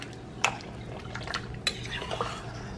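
A spoon stirring red beans in a crockpot, giving a few light clinks against the pot and soft wet swishes, quiet and brief.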